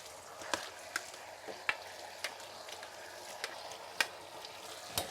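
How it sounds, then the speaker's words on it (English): A soft, steady sizzle of a black bean and quinoa veggie burger frying in a pan, punctuated by occasional sharp pops and crackles, with no talking. "you can hear that nice sizzle"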